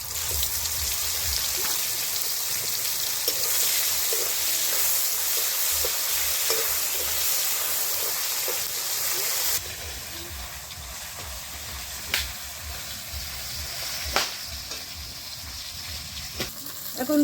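Dried fish with garlic and black cumin frying in hot oil, a loud, continuous close sizzle and hiss with faint stirring clinks, settling slightly quieter partway through, with no talking.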